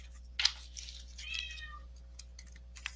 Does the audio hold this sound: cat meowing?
yes